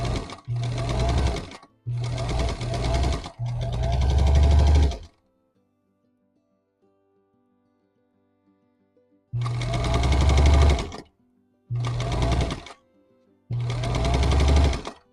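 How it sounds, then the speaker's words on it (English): Sewing machine stitching pieces of a quilt block, running in several bursts of a few seconds each with a long quiet pause in the middle, loud and close with no talking. "Let's do some sewing and see what we get."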